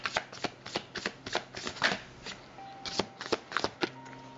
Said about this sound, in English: I'm gonna pull one or two more cards.